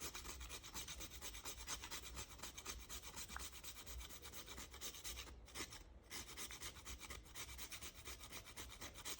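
An ingredient for cornmeal porridge is grated in fast, steady rhythmic rasping strokes close up, the scraping continuous and fairly quiet throughout.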